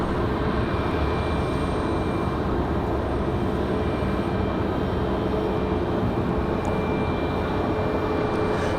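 Airliners departing Raleigh Durham airport produce a steady, broad engine roar that holds at an even level throughout, with no voices over it.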